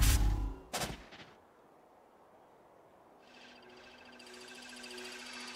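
Gunfire in the Valorant video game, a loud sharp report followed by a second shot, then quiet ambient game tones with a faint high electronic hum rising toward the end.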